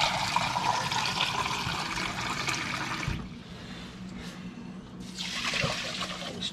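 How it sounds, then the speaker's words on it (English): Water pours into a pot holding two cups of rice in a kitchen, a steady rushing splash that pauses briefly in the middle and then resumes. "I'm gonna add 4 cups of water to 2 cups of rice."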